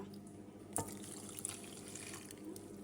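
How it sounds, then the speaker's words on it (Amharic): Water runs steadily from a tap or is poured into a glass while a sweet milk drink is being prepared, making a continuous close trickle with a brief clink near the start. No one speaks. "አንድ ብርጭቆ ውሃ"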